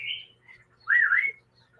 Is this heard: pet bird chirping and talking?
yes